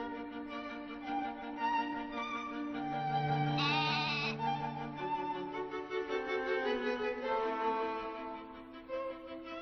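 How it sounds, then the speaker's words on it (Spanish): A sheep bleating repeatedly, long wavering calls that rise and fall, close and fairly clear, with one louder, higher cry near the middle. "¿Dónde está la oveja?"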